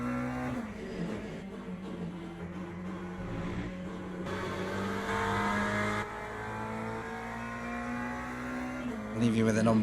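Onboard a race car in Le Mans Ultimate, the engine drones steadily with its pitch slowly rising and falling through gears, a continuous close hum that stays moderately loud throughout, with brief tire noise near the end.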